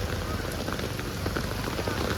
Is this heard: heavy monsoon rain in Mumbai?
yes